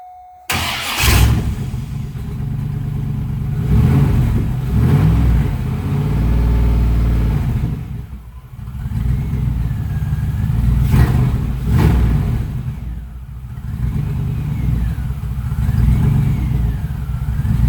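A freshly built LS6 V8 in a METELIC R2 fires up for the first time, cranking briefly and then catching into a loud, steady run close by, with repeated revs swelling and falling before it settles toward idle.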